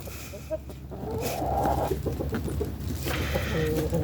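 Chickens cluck and squabble close by outdoors, a busy jumble of low clucks and short calls with a few louder squawks.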